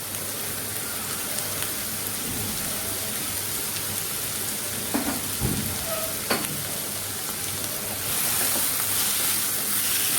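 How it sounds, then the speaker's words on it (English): Dry prawns sizzle in a pan with chilli powder and salt for a Kerala-style dry prawn curry, a steady close crackling hiss with a few clinks of stirring, rising slightly louder toward the end. "fry them nicely"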